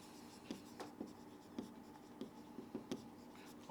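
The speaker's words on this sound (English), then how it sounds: "In the left corner, you write the strength" A pen writes on a SWOT analysis chart, a quiet, close scratching with soft taps and strokes at an irregular pace.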